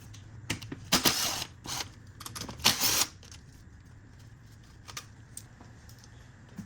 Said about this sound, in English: I'm also gonna pull out these 10 millimeter bolts right here and right here.